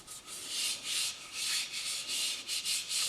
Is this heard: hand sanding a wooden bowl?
yes